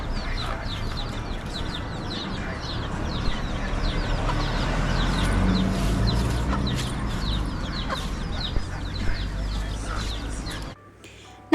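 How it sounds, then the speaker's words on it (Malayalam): Chickens clucking at an outdoor spot on an evening walk in Africa, steady fowl calls over a busy ambient background that cuts off near the end. "കോഴീനെ പിടിക്ക."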